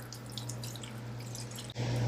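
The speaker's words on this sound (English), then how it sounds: "add in most of the water." Water poured into a bowl of ground meat while making Polish smoked sausage (kiełbasa wędzona): a steady trickling, splashing pour that briefly cuts out and then resumes fuller and louder, with a low constant hum underneath.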